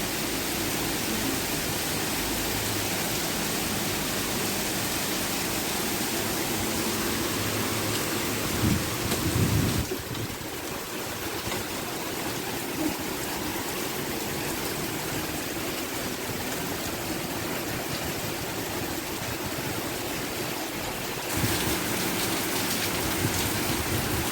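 Heavy typhoon rain pours steadily and loudly during Typhoon Tisoy in Cebu, with rumbles of thunder breaking through the constant downpour, and no voices are heard.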